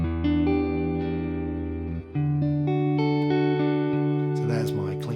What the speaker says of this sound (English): so there's my clean deluxe reverb